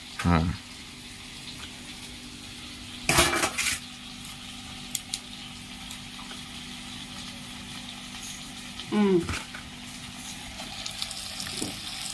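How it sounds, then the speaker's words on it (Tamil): Torn parotta pieces for chilli parotta are stirred in a pan, giving a low steady frying hiss with a few sharper scraping clanks of the utensil spaced several seconds apart. "நெக்ஸ்ட் நல்லா கிளறி விட்டுற வேண்டியதான்"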